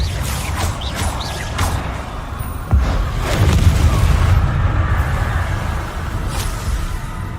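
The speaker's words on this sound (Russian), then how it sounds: "Устроили фейерверк небольшой." Spell explosions like small fireworks in the Hogwarts Legacy video game, a series of sharp bursts and whooshing blasts over a low rumbling bed, with a louder boom midway.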